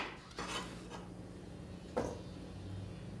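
A knife dicing sweet potato on a board, a few quiet scattered chopping knocks against a low background hum.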